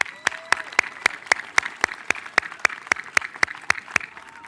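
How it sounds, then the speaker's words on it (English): Sharp handclaps ring out at a steady, even beat, about four per second, loud and close, with a faint murmur underneath, at a high school graduation ceremony. "Let's give them a round of applause, everybody."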